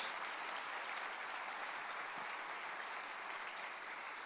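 A church congregation gives a steady round of applause, even and fairly distant, holding for about four seconds without a break.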